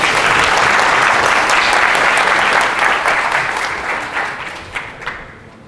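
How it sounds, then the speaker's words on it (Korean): A conference audience applauds to welcome a speaker before a technical lecture, dense loud clapping that holds steady, then thins and fades out near the end. "큰 박수 부탁드립니다."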